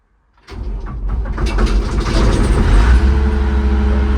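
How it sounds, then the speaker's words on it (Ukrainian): A Claas Dominator 68 combine harvester engine turns over after a moment of silence and catches, then settles into a loud, steady diesel rumble that grows slightly fuller as it runs, heard up close. "Завів комбайн"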